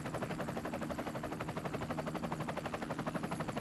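Helicopter in the video game Army of Two, a steady rapid rotor chop with a dense whirring drone that holds throughout at moderate level, with no talking.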